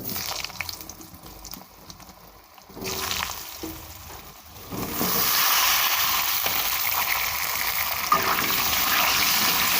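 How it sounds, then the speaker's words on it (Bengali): Cut potatoes dropped into a pan of frying cumin, a quiet sizzle that swells into a loud steady hiss of hot oil and keeps frying evenly without talk. "জিরেটা ভাজা হয়ে গেছে দিয়ে দেবো কেটে রাখা আলুগুলো"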